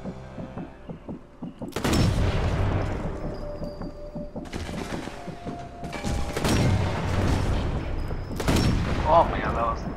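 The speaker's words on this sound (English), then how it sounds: "Oh man, that was a big explosion." Big explosions in the Sniper Elite 4 video game, several loud booming blasts and bursts of gunfire rolling in at intervals with dense low rumble, while players talk over the action.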